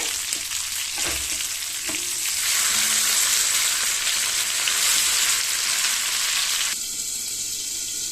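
Rock fish fries in a pan of oil with a loud, steady hiss and crackle, a few clatters as it is turned early on, and the sizzle dropping somewhat toward the end.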